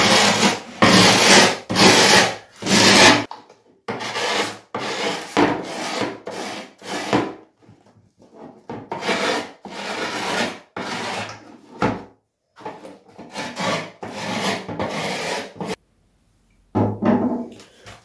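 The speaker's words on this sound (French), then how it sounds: "On va pouvoir prendre un tournevis et on va venir faire le tour du skate, de la planche, pour marquer" A screwdriver is scraped around the edge of a skateboard deck to score the outline of the grip tape, giving repeated close, loud rasping strokes in irregular bursts separated by short silences, with no talk.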